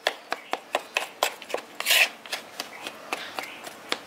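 Dry batter ingredients for village-style green mango pakoda are mixed by hand in a bowl, making a rhythmic series of about a dozen close, gritty scraping and rubbing strokes with one longer rasping sweep midway.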